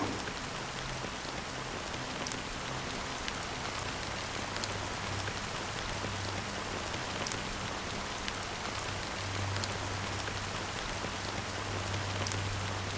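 Steady rain falls in the Honkai: Star Rail video game, a dense, even patter on surfaces that continues throughout with no talk.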